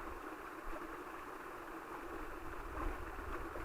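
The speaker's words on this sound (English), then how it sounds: "got another little bit of a waterfall here." A small waterfall on a steep, slippery stream makes a steady broadband rush of falling water that stays even throughout, with no voices.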